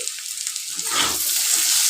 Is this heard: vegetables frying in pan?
yes